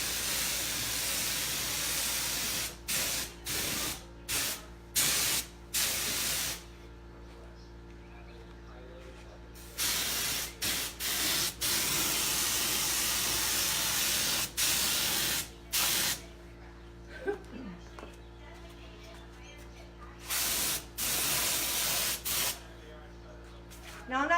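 Three blended colors sprayed through a sprayer onto a cake top, heard as loud bursts of steady hiss in repeated spurts of several seconds with short quiet gaps between them.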